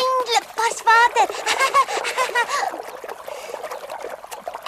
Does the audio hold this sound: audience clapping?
no